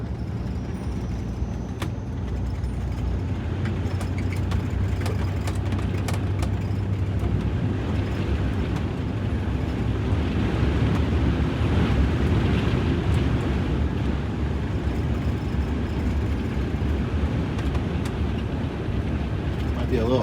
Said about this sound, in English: Might be a little hard to get a feel for the steering today with the winds blowing so hard.